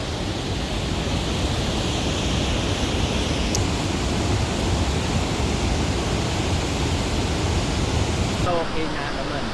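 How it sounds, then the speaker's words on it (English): A waterfall roars in a dense, continuous broadband rush at a park with a suspension bridge, steady throughout, with a faint voice briefly audible near the end. "there's a waterfall right here"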